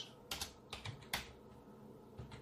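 Computer keys are struck in a short burst of a few quick, light clicks, close and fairly quiet, as a command is entered in the Windows 10 command prompt.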